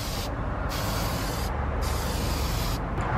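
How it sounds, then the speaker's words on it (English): Cheap 98-cent spray paint hisses from an aerosol can being sprayed on a Toyota Celica during an emblem and front plate delete, a close, loud, steady spray broken by brief pauses, with no talking. "That's some shitty spray paint."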